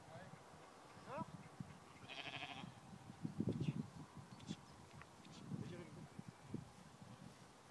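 Sheep bleat across a French pasture, several calls overlapping in bursts at moderate distance while a person talks over them.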